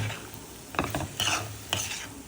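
Lentil mash with chopped coriander is stirred in a pan, with a few soft scraping strokes of a spoon over a faint background sizzle, quiet and close.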